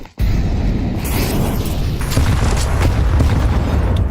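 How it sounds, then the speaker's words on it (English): Grenade explosions in the video game Counter-Strike 2 during a competitive match: a dense, loud rumbling roar of blasts that starts abruptly and stays sustained throughout, with faint crackling bursts layered on top. "Ooh, good grenades though for Pain."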